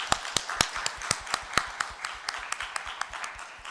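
A church congregation claps in celebration, sharp distinct hand claps in a brisk, fairly even rhythm, heard close and clear with no talking for nearly four seconds.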